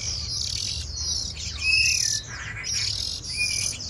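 Baby songbirds, young hill-myna-type cage birds, chirp in a busy cluster of high tweets and calls over a low steady background hum, fairly close.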